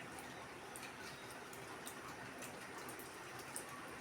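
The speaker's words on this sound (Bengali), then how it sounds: "বাইরে দেখো অনর্গল বৃষ্টি হয়ে যাচ্ছে" Continuous rain falls outside, heard as a steady, faint hiss with scattered light drips and patters, even and unbroken throughout.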